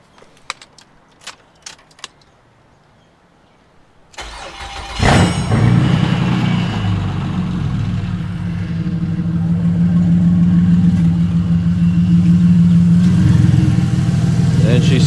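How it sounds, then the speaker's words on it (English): A car's starter cranks after a few light clicks and rattles, then the engine catches and settles into a loud, rough, steady idle with no exhaust fitted, its low rumble sustained to the end. "we should be able to start the car now."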